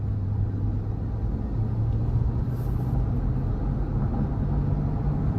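A 2023 GMC Yukon Denali Ultimate with its 6.2-liter V8 drones steadily while driving, giving a constant low engine rumble and road noise heard from inside the cabin, with no talk over it.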